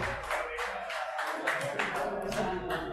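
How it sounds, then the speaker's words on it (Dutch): An audience at a networking reception ahead of a building, home and household fair claims it with warm applause for a speaker. Dense, steady clapping from a crowd fills the moment, with voices mixed in underneath. "Mijn warm applaus voor Rijmiel"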